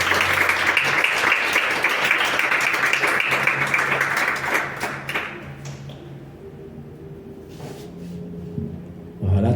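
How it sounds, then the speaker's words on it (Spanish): A church congregation applauds at the preacher's call, with loud dense clapping over the first half that thins out and fades into quieter room sound and scattered taps toward the end. "Den un fuerte aplauso al Señor."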